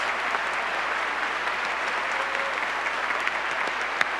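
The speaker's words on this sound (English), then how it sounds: "Let's give all of these folks a big round of applause." Audience at a school district leadership conference gives a big round of applause, a continuous wash of clapping heard without talk, fairly even and moderately loud throughout.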